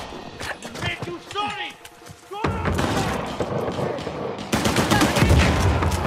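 Rapid bursts of gunfire and a booming blast crackle continuously in the video game Uncharted: The Lost Legacy, loud and dense, with a voice talking over parts of it.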